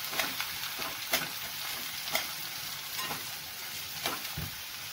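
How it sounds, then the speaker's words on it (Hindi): Chopped papaya stirred in a pan of hot oil with curry leaves, giving a steady close sizzle punctuated by regular scraping strokes of the spoon, with no talking. "अब इसमें डालेंगे ये कटा हुआ पपीता। पपीता डाल के इसे अच्छी तरह मिक्स करें।"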